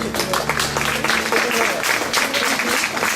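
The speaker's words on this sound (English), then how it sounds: "let's give a round of applause for all these outstanding scholarship earners" Dense, loud audience applause at a high school graduation ceremony, with the crowd's cheering and voices mixed into the continuous clapping.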